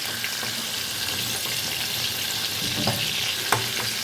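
Pointed gourd (potol) pieces fry in hot oil with a steady, close, even sizzle. A few faint clicks and light stirring taps sound near the end.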